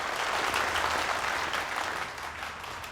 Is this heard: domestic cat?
no